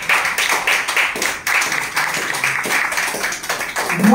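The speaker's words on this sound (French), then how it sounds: "Je crois qu'il mérite des applaudissements." Scattered, uneven clapping from a small press-conference audience in Martinique, with distinct individual hand claps and brief gaps instead of a full, dense roar.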